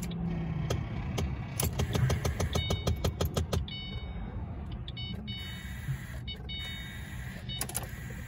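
Car with a dead battery failing to start on the freeway, a rapid rattling clicking burst from the starter for a few seconds, then scattered clicks and chimes over a steady background hum.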